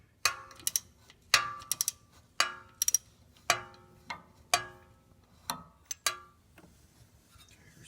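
A flex-head ratchet loosening a distributor bolt on a Fiero GT, sharp metallic clicks in short irregular bursts with pauses between strokes, close and fairly quiet, no talking.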